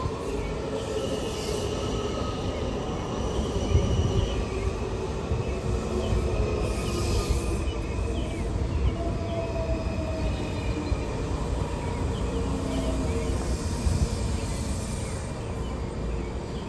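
A DC Metro Orange Line train rolls along with a steady, loud rumble of wheels on track throughout, with faint squeals and tonal whines rising over the continuous ride noise.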